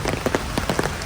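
Steady rain falls on a surface, a dense patter of close drops over about a second.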